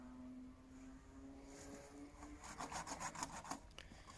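Branches being trimmed off a felled wooden pole outdoors in winter, a faint rasping scrape that grows into a rhythmic run of short strokes, close by and alone.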